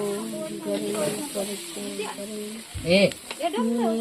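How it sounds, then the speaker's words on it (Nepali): Village-style frying with a steady high hiss and sizzle running throughout, mixed with clear, fairly close speech and a brief clatter partway through. "यसरी मजाले फ्राई गरेको"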